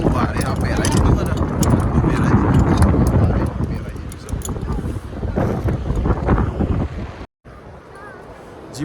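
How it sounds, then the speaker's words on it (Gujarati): Strong, cold wind in Manali roars and buffets the microphone in steady, heavy gusts, with voices faintly audible beneath it. The sound cuts out briefly near the end. "પવન બહુ જોરદાર આવે ઠંડો ઠંડો"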